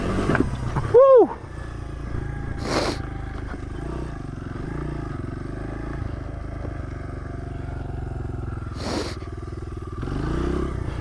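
A dirt bike engine whines past nearby with a sharp rising-then-falling rev, then fades to a distant drone, with brief rushing passes later and a rough rev again at the end outdoors.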